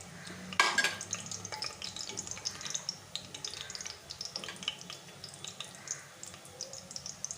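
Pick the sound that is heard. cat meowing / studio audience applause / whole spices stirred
whole spices stirred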